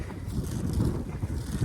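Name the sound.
strong wind blowing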